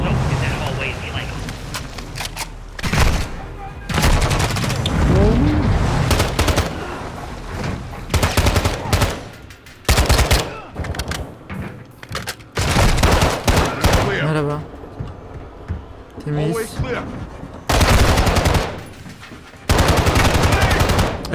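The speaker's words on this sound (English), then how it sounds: "Abi sürekli Ghost'u vurup duruyorum ya." Automatic and single gunfire in Call of Duty: Modern Warfare 2 during a shipboard combat mission, with repeated loud bursts, brief pauses, and in-game radio voices and player talk over the shooting.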